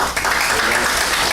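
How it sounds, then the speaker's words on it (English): Loud, dense applause from a symposium audience, many hands clapping at once in a sustained, even burst with no voices over it. "Let's give that a hand clap."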